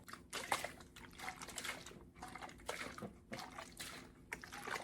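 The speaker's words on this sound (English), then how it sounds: "the next sound effect I need is the shaking of the water bottle" Water sloshes inside a shaken plastic water bottle used as a homemade sound effect, in soft repeated bursts of liquid splashing, quiet and close, with brief pauses between shakes.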